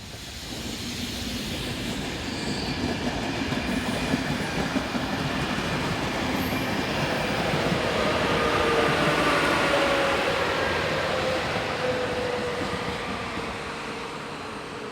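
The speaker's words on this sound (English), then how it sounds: "one of 11 locomotives of this subclass fitted with push-pull equipment, and part of a second build between 1991 and 1992, approaches with a local service from Usti-nad-Labem." Czech Railways push-pull electric locomotive from a 1991–1992 build approaching with a local train from Ústí nad Labem, a rising rumble and rail clatter that swells to a peak midway and then eases, with no voices.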